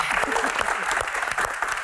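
Audience applause rings out over talk about an Olympic women's doubles badminton win, a dense steady clatter of clapping with a voice speaking over it throughout.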